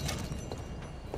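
Horse hooves clip-clop at a steady walking pace in Red Dead Redemption 2, the soft regular thuds sitting close and moderately loud over a low ambient bed, with no voices.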